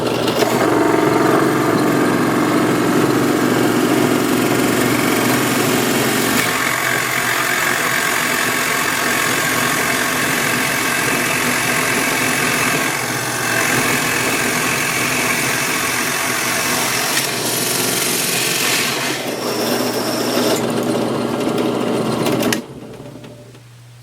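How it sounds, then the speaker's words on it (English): A 1.5-inch Forstner bit bores through wood with a loud, steady motor whine and grinding for about twenty seconds, shifting pitch partway, then winds down abruptly at the end. "Forstner bit just cuts right through this with no problem at all"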